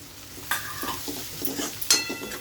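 Onions stirred and frying in a pan for a raw jackfruit vegetable dish, with a soft steady sizzle and a few scraping stirs of a spoon, close and without talk.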